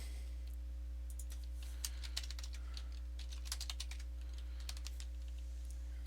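Typing on a computer keyboard to log in during a SLES12 server install, a run of close, crisp key clicks in short bursts over a steady low electrical hum, with no talk.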